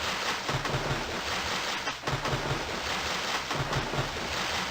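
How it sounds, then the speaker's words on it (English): Continuous splashing of a character swimming in the video game Daggerfall, a loud dense wash of water noise with a rhythmic churning pulse, no other sounds. "I don't like all that splash. That splash is too loud."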